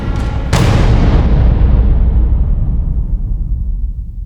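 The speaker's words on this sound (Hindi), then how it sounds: "मैंने धमाके की आवाज सुनी" A single loud explosion booms suddenly and dies away in a long, rumbling decay, heard alone with no talk, in a Hindi crime drama scene at night.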